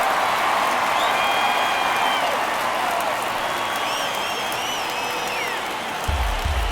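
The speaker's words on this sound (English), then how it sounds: "Crowd locked in right now." Ballpark crowd in MLB The Show 23 during a Dodgers at Miami game, a steady roar of a large crowd with faint whistles and cheering, continuous throughout with no clear peaks.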